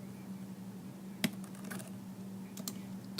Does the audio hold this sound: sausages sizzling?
no